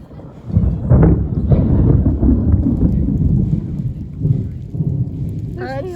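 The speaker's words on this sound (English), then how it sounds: "It's starting to rain." A summer thunderstorm with a loud, close rolling rumble of thunder that swells and fades over steady rain, and a brief voice near the end.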